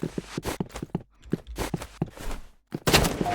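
Gunfire in the video game Rivals, a string of short, punchy shots and thuds with brief gaps, closing on a louder burst of noise, fairly close, with no talk over it.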